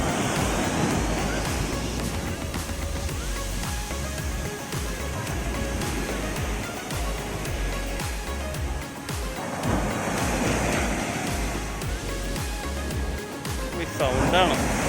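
Sea waves roar continuously at Arthunkal beach on the Kerala coast, a steady broadband surf wash with wind buffeting the microphone throughout and occasional louder surges.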